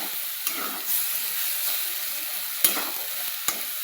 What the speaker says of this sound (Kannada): ಇಷ್ಟು ನೀರು ಹಾಕಿದ ಈ ಸಣ್ಣ ಉರಿಯಲ್ಲಿ ಕುದಿಸನ್ಬೇಕು.